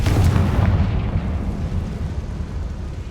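A Confringo spell blast in Hogwarts Legacy, a loud deep explosion that booms at the start and then rumbles on and fades.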